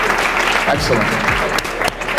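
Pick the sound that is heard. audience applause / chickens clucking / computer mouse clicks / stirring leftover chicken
audience applause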